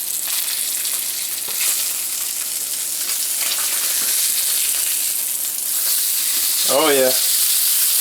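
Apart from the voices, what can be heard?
sea trout frying in a pan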